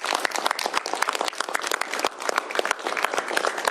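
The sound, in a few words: applause after bill signing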